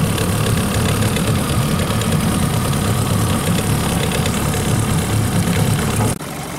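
A 2017 Mercury 9.9 outboard motor runs on a cold start with the choke on, a loud close steady rattling drone that drops abruptly in level near the end.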